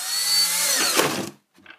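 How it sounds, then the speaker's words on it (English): Power drill driving a screw while building a ferric chloride agitator for circuit board etching, a steady close whirring run of about a second and a half that bogs and stops, then a brief short burst. "I'm going to take a drill, I'm going to go"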